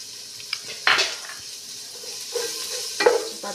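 A spatula scrapes and clinks in a pan while sliced onion, green chili and ground ginger-garlic paste with fennel are stirred over a faint sizzle. Two sharper utensil knocks stand out.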